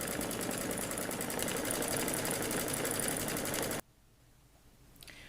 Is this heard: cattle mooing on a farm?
no